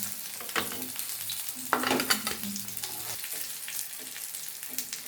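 Lentil and shrimp pathuri wrapped in bottle gourd leaves fry in a pan with a soft continuous sizzle, broken by a few spatula stirs and scrapes, no talking.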